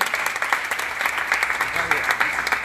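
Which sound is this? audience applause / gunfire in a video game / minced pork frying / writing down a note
audience applause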